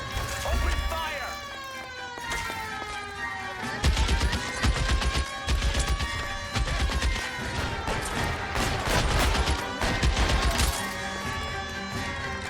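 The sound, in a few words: gunfire in L.A. Noire video game shootout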